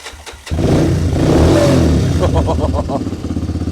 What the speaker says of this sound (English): Let's get this bike started up with the choke on because it's cold.